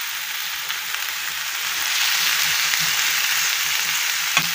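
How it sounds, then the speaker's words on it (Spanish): Chopped onion and tomato sautéing in a pan for a sofrito, a steady hissing sizzle that grows slightly louder midway, with a faint clink near the end. "Vamos a sofreír."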